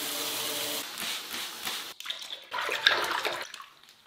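A wig is soaked in antistatic liquid, with water pouring and splashing steadily, then a pause, then more sloshing that fades toward the end.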